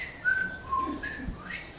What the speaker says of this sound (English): So death started blowing his whistle.